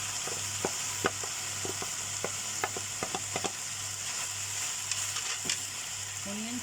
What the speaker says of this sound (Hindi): इसको थोड़ा सा भूनते हैं। अब इसमें डालेंगे 1 मीडियम साइज ऑनियन चॉप किया हुआ।